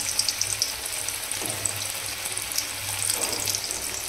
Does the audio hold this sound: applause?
no